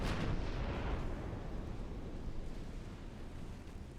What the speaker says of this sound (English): Now our big guns are going to turn around and go after.